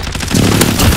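Video-game airstrike explosions land in a dense burst of booming, crackling blasts, loud and close, filling a single second without any talk.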